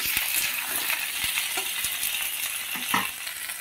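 Quartered tomato pieces frying in a hot pan for a spinach dish, a steady close sizzle with a few soft clinks and stirring scrapes scattered through it, no voices.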